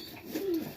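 Young pigeon nestling, a highflyer tippler, gives a single short, soft coo up close, faint against quiet background noise.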